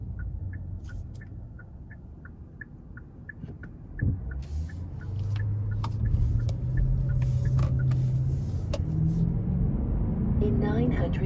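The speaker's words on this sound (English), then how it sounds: "take this Genesis G90 all-wheel drive Ultimate out on the road for a quick test drive" A 2021 Genesis G90 AWD 5.0 Ultimate on a public road gives a steady low engine and road rumble that swells as it gathers speed. Rapid ticking clicks run through the start, and a voice is heard now and then.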